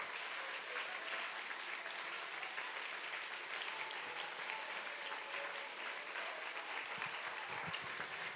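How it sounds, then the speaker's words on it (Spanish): A church congregation at a Spanish-language sermon applauds, with an even, continuous wash of many hands clapping, heard from some distance and fairly soft throughout. "dele un aplauso al Señor"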